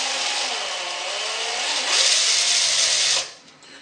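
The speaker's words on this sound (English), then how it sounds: "Now we can do the now compulsory drill test. So if I put the drill bit into the carrier here" A power drill spins a 3D printed planetary gear, giving a steady high whirring buzz that rises in pitch and strength partway through. It then cuts off near the end, and no one speaks over it.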